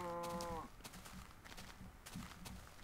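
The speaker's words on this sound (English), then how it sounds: "I got the moo-moos coming here" Cows mooing in the video game Minecraft, a drawn-out low moo at the start followed by soft footsteps and scattered game noises, with a faint voice in the background.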